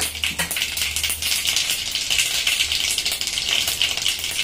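Mustard seeds splutter and crackle in hot oil, a dense, continuous sizzle of rapid popping that stays steady and fairly close throughout, with no voices.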